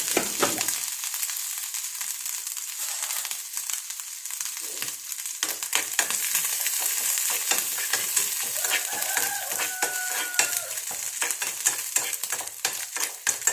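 Pieces of coconut fry in a pan, filling the scene with a steady crackling sizzle, along with frequent spattering pops and occasional stirring scrapes, close and fairly quiet.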